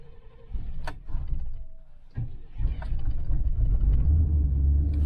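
A 1998 Chevy pickup with a small antifreeze leak, cold-started on a near-freezing farm morning, cranks in a few short bursts before the engine catches and settles into a steady, loud rumbling idle.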